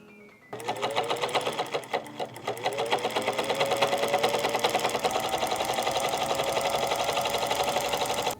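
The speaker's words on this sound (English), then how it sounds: "I decided to sew some tests on something that would actually show up on camera" A vintage 1950 Elna Grasshopper sewing machine stitches test seams on fabric, starting after a brief quiet moment and then running in a steady, fast mechanical chatter with rapid rhythmic ticking, close and fairly loud throughout.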